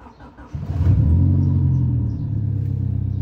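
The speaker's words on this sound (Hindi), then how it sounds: "कोल्ड स्टार्ट हो रही गाड़ी" A 30-year-old BMW E36 cold starts with a brief cranking stutter. The engine then catches into a loud, deep rumbling idle that settles slightly lower after a couple of seconds.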